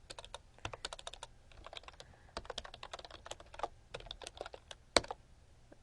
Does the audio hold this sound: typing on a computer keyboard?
yes